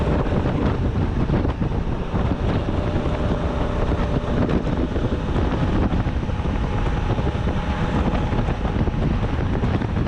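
Heavy, roaring wind buffets the microphone on a Honda Africa Twin motorcycle riding through a strong 30 mph crosswind, a dense continuous rumble that fills the whole stretch without letup.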